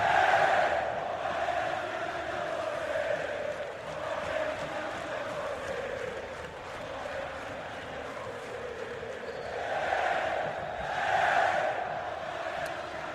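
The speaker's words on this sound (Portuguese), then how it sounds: "Quer ouvir um pouco mais do show que dá a torcida do Palmeiras nesse momento?" Palmeiras supporters chanting in unison in the stands at a 2008 Campeonato Paulista derby against Corinthians, a steady massed roar of voices that swells loudly around two points and carries continuously without commentary over it.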